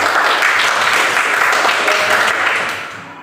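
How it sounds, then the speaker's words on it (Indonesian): A classroom of students claps together in a sustained burst of applause, dense and fairly loud, tapering off toward the end. "Kasih tepuk tangan sekali lagi."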